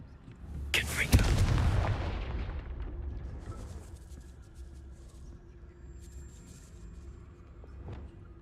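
A heavy fiery blast from the Confringo spell in Hogwarts Legacy erupts loudly, with a booming roar that rumbles and slowly fades over several seconds into a quieter game ambience.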